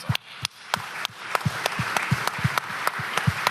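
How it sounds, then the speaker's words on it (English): A conference audience claps for several seconds, with loud sharp hand claps rising into dense, sustained applause from a crowd in a large hall. "give yourselves a round of applause"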